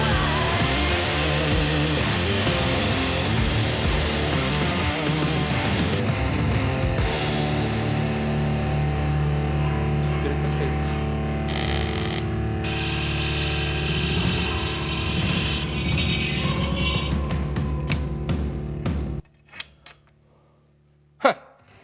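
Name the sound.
cutting the slot in a Damascus Viking sword guard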